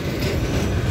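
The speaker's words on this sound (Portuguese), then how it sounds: "Esse trem aqui é muito comprido, muito." A long train rolls steadily past on the tracks at a crossing, a loud, continuous rumble of wagons heard close up with no voices.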